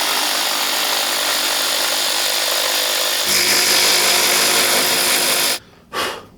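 A power saw cuts a curvy custom pickguard for a Squier Bronco bass, a loud steady close whine that shifts in pitch midway, then cuts off with a brief final burst.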